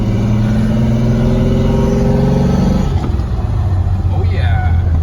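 A Ford Bronco II with a swapped-in manual transmission drives along, its engine droning loud and close with a steady tone that dips and shifts partway through as it changes gears.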